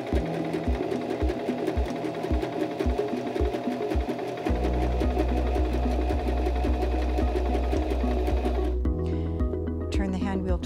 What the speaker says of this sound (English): place your fabric under the presser foot and lower the presser foot to start sewing